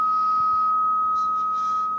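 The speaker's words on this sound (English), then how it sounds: "and now we can hear the sine wave." A steady 1.2 kHz sine tone from a signal generator holds unbroken for two seconds, with a faint low hum and soft background clicks beneath it.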